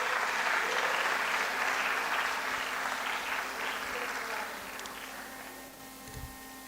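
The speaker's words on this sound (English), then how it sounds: "A huge round of applause, please." An audience at a Youth 20 consultation on the future of work at Panjab University claps in sustained applause that slowly thins and fades toward the end.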